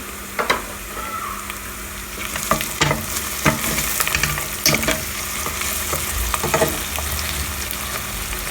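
Two cloves of garlic fry in a pan with a steady, close sizzle, broken by scattered clinks and scrapes of stirring.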